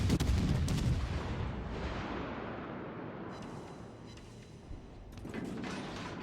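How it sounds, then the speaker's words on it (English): Warship main guns firing in World of Warships: Legends, with a heavy booming salvo up front and a long rumbling roll, then a second crackling burst of fire later, loud and without talk. "So now all that's left to do is just to open fire on him."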